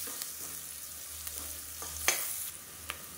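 Crushed garlic with its skin on sautés quietly in a pan for a Madurai black chickpea kuzhambu, a faint soft sizzle with a few light stirring taps, no speech.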